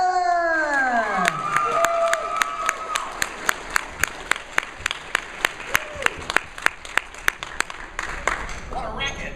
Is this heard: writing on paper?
no